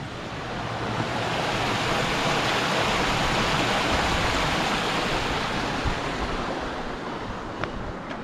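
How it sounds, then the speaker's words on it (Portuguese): Steady, full rushing water noise fills the whole stretch, broadband and constant like a flowing stream close by in Mariana, Minas Gerais, Brazil, with no voices. "Aqui passa um córrego."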